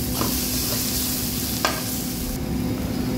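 Chickpeas are sautéed with a roasted spice mix, a continuous close sizzle broken by a few sharp scrapes of a spoon against the pan, with no voices.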